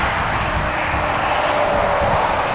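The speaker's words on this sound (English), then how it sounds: "We will stick with the Dreamliner as it lines up" A United Boeing 787 Dreamliner jet lines up on the runway at Dublin Airport, its engines giving a steady, loud broadband roar with a constant hiss that holds without change throughout.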